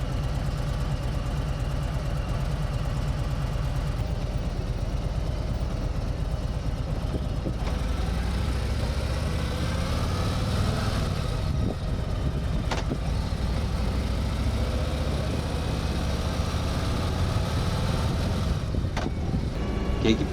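A Harley-Davidson motorcycle engine idles steadily, a continuous low rumbling throb that holds evenly throughout, fairly close, with occasional brief clicks and rustles over it.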